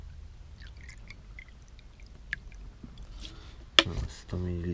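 Pure spirit is poured into a bottle holding pine resin, a brief gurgling splash near the end after quiet handling noises.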